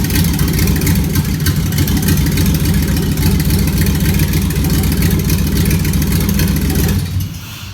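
Engine of a 1956 Ford F-100 after an engine swap running loud and close, a steady dense roar that holds for several seconds before cutting off and dropping away near the end.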